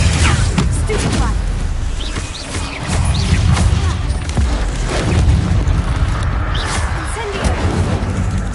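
Repeated Stupefy spell blasts in Hogwarts Legacy, booming magical impacts and crashes layered over continuous game music and effects, with a player voice calling out spells throughout.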